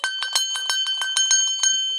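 A small bell rings rapidly and repeatedly, about a dozen bright metallic strikes with sustained ringing tones, loud and close, with no voices.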